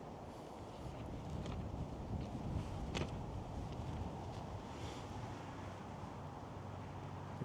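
On a clear mid-50s day at an outdoor shotgun range, wind buffets the microphone in a continuous low rumbling gust, fairly faint but steady, with no talking.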